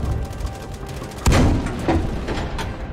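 A loud gunshot in the Battlefield V beta shooter game, one sharp report followed by a weaker second shot amid ongoing battle ambience.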